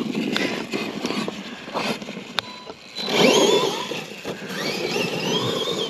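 The electric motor of a Traxxas LMT RC truck whines and revs in rising bursts under throttle, surging louder midway with tire noise and a few clicks, heard fairly close outdoors.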